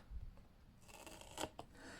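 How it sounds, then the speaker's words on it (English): Scissors trim excess covering material from the edge of a handmade journal cover: a few faint handling rustles, then two quick, close snips in a quiet room. "and then just snip that off"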